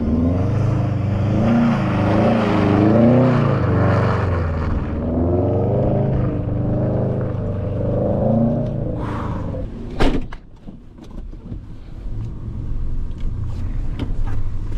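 Subaru STI engine revving hard and wavering as the car drifts on snow, a loud, rising and falling roar with an abrupt thump midway, then quieter rumble.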